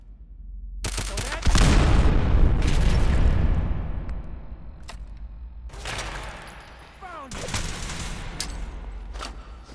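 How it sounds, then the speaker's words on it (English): Thrown pipe bomb exploding in Fallout 4, a big close blast rolling on for a couple of seconds, followed a few seconds later by further booms and crackling gunfire, with a voice talking in places. "I think I'll throw the pipe bomb"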